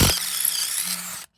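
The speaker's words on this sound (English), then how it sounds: "we have to drill some holes through this little 2 holes right there. Use the 5/16 drill bit." Power drill with a 5/16 bit enlarging holes in a bracket for a green APU, a short high, squealing whine with a low hum that cuts off abruptly after just over a second.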